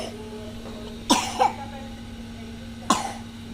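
A small boy coughs nearby, first a pair of quick close coughs and then one more about two seconds later, over a low steady indoor hum.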